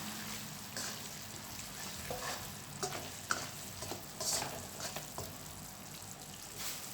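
Fried shallots are stirred into sweet fish sauce in a pan on low heat, giving a soft, steady sizzle with occasional light scraping clicks and no talking.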